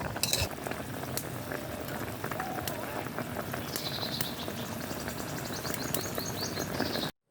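Water and jaggery simmer for syrup in a wok, a steady bubbling and sizzling with occasional light clinks and scrapes, continuous at a modest level until it cuts off abruptly.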